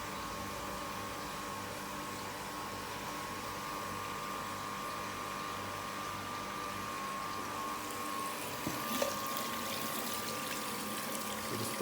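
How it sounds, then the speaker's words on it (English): A pump pushes freshly brewed iced tea through brewing lines with open valves, making a steady, continuous liquid hum and flow with no talk, and a few faint knocks near the end. "And now we have tea flowing through."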